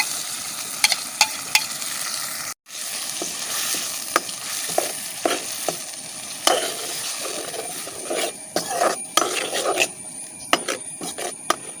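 Ground tomato paste frying in a pan with popped mustard seeds and curry leaves for a simple tomato chutney, stirred with scraping strokes over a steady hiss, one short break in sound early on.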